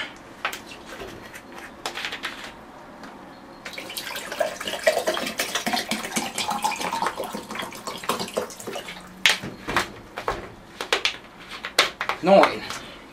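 Cold water runs from a tap in bursts, splashing and trickling against a container nearby, with some clinking, while a person talks over it.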